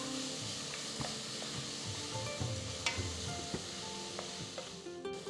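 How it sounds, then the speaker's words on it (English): Finely chopped onions, pounded garlic and slit green chilies sautéing in a pan, a steady close sizzle with occasional soft stirring scrapes and small pops throughout. "add 2 finely chopped onions, 10 cloves of garlic slightly pounded, 3 green chilies slit and saute them till the onions are soft and nice"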